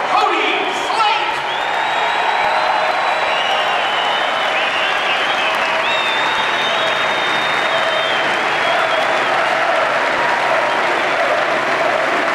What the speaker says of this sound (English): Let's give a big round of applause to one of your very own.